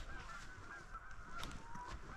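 Canada geese honk at a distance in the New Zealand alpine country, a faint, steady series of repeated calls over low background noise.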